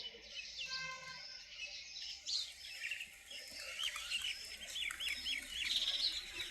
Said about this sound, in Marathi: हे पा पक्षी